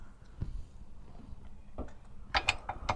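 A nut spinning onto a motor mount bolt on a Jeep Grand Cherokee 3.7L gives a few faint, close metallic ratcheting clicks, sparse early and then a quick cluster near the end.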